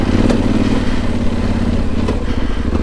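Yamaha Tenere Rally motorcycle ridden off-road on a trail, its engine droning loud and steady close by with a constant low rumble and a few clattering knocks, no talk over it.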